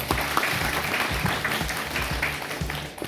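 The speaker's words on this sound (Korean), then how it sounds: "세 분한테 뜨거운 박수 한번 주십니다" An audience at a youth association's president inauguration ceremony claps warmly and continuously, a full room of hands at steady volume with no speech over it.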